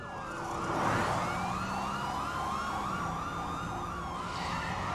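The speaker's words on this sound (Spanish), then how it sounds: "Cuando el hombre escuchó la sirena" A police car siren wails in repeated rising-and-falling cycles during a car pursuit, loud and close over engine and road noise, holding steady throughout without speech.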